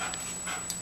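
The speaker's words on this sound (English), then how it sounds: "Military police, coming on military working dog!" A military working dog pants in quick, soft breaths during building search training at Sasebo Naval Base in Japan, fairly close, with a faint high electronic whine running steadily underneath.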